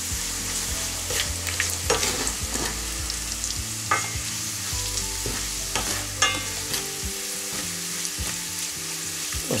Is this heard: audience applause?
no